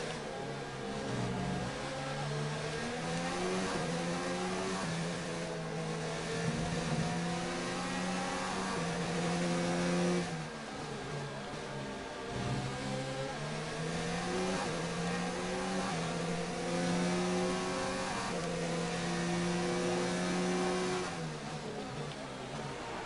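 F1 car engines racing in the game F1 2019, a high-pitched screaming engine note that climbs and drops through repeated gear shifts, with several cars close together and a steady whine throughout.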